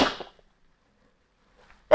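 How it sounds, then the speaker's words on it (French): A woman with a cold sneezes in sharp, loud bursts, one fading out at the start and another breaking in at the end, with near silence between them. "On ne peut rien faire contre un éternuement."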